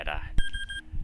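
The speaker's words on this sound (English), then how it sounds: "my headphones are beeping at me" A pair of headphones gives a few short, high electronic beeps in a quick regular row, heard under a man's speech and a sharp knock.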